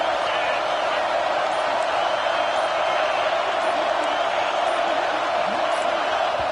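Steady, loud roar of a stadium crowd in a Madden football game on PS5, a dense unbroken wash of noise sustained throughout with faint whoops rising within it.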